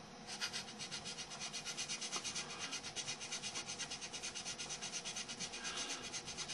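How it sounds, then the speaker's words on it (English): Steady, rhythmic back-and-forth sanding scrapes flashing on the roof of a 1973 Mustang, close up and continuous with a quick even stroke. "this one has a bit of flashing because of the roof, so we'll sand her down a little more"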